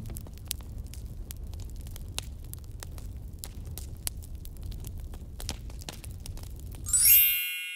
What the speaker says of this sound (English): The correct answer is bonfire.